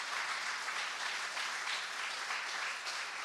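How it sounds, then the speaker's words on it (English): Audience applause at a festival talk on breaking into advertising, a steady wash of clapping from a crowd lasting a few seconds with no pauses. "can I get a big round of applause for Sue?"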